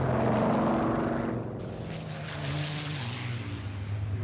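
Low-flying American fighter bomber planes sweep in over abandoned paddy fields near Shanghai, a loud, sustained engine roar and propeller drone that swells, dips briefly and builds again, close overhead with no talk.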